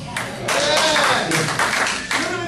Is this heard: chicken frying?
no